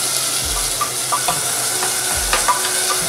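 Tomatoes frying with green chilli, coriander powder and hing on low gas, a steady close sizzle broken by scraping spoon strokes in the pan.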